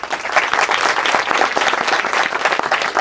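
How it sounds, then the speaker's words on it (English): Wedding guests applauding, a full, dense burst of many hands clapping close and loud, sustained evenly throughout with no voices on top. "I think a big round of applause"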